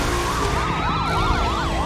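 Police siren in the racing video game The Crew 2, a loud wailing electronic siren with rapidly rising and falling tones, sustained throughout over engine noise.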